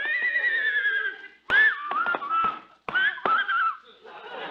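A horse whinnies loudly in long, quavering calls, broken by sharp knocks and shuffling hoof sounds, with brief gaps between bursts.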